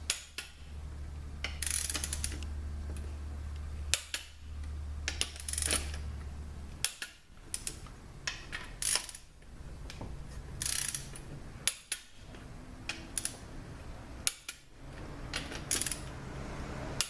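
Wrench clicking as bolts on a transmission pump are torqued down to 20 foot-pounds in a 62TE automatic transmission rebuild, with repeated metallic ratchet clicks and clanks in irregular bursts over a low steady hum.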